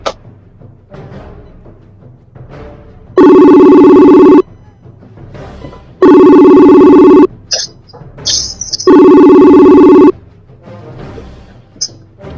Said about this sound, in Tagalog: try ko tawagan uli ito.